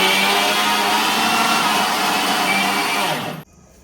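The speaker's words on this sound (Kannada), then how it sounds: "ಇದನ್ನೊಂದ್ಸಲ ಗ್ರೈಂಡ್ ಮಾಡ್ಕೊಂಡ್ಬಿಡ್ತೀನಿ ನಾನು." An electric mixer grinder whirs loudly and steadily while grinding jaggery and coconut for a modak filling, then winds down and stops abruptly near the end, leaving quiet.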